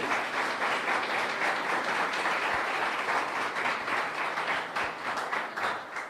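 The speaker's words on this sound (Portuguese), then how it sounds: "Salva de palmas." Sustained audience applause at a sports program launch event, a steady, even wash of many hands clapping from a fairly distant crowd, held at constant strength without talk.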